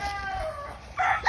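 A young white stag rooster of a Canawine cross crows close by: a short, hoarse, rising call that breaks off, then a brighter second burst.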